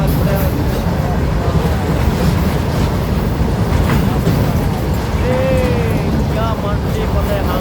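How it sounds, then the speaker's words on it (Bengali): A long passenger train rolls past a road level-crossing gate in Assam, close by and loud, with a steady rumble and clatter of wagons continuing throughout and a voice speaking over it. "কত লম্বা ট্রেন দেখেছেন। এইভাবে ট্রেন যখন চলে"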